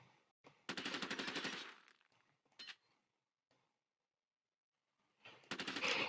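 Rapid automatic rifle fire from an Unreal Engine mobile game, two loud sustained bursts of quick rhythmic shots separated by a few isolated single shots and near-silence, with no talking.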